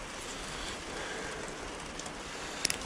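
Steady rain falls outside at a hoop house, a continuous hiss of drops on surfaces with a few sharper spatters near the end, no talking.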